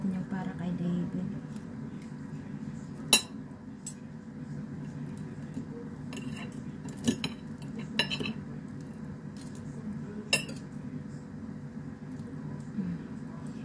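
A fork clinks against a plate in a few sharp, scattered taps while fried tilapia is being flaked apart, under a steady low hum and someone talking nearby.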